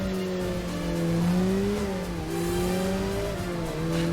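A car racing at high speed in the Dreamcast game Headhunter, its engine holding a steady whining drone with slight pitch shifts as it accelerates, loud and continuous with no talk.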